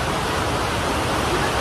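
Water cascades steadily into the World Trade Center Memorial pools, a loud continuous rushing roar with no break.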